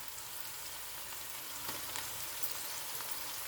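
Pieces of bottle gourd fry in a pan with onion and green chillies, giving a steady, dense sizzle that runs unbroken throughout, with a few faint stirring clicks and no talk.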